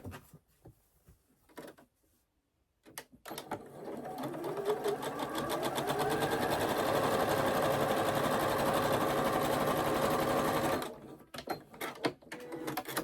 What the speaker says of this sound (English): We've sewn on either side of that diagonal line.